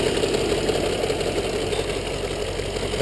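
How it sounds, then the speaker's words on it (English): A steady idling engine from a 2001 Audi A6 4.2 with a continuous mechanical rattle from a seized intake arm running throughout, close and even. "I think that's part of the rattle here"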